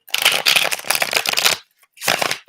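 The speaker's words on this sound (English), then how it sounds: "I'm going to go ahead and get started with shuffling the cards" A deck of tarot cards is shuffled by hand in two long riffling bursts and then a shorter one, each a close, loud, crisp flutter of flicking cards separated by brief pauses, with no voices.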